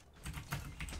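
Quiet bursts of typing on a clicky, loud computer keyboard, a few quick keystrokes close by, with no voices.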